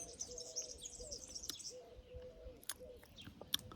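Small birds chirp and tweet in short bursts at a strawberry garden, faint and moderately distant, with scattered brief calls and a steady high chatter in the background.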